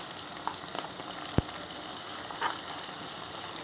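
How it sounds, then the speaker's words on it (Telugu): Fresh homemade ginger-onion paste fries in a pan with a steady, close sizzle throughout, broken by one sharp low thump midway. "పచ్చివాసన పోయేదాకా మంచిగా ఫ్రై చేయాలి."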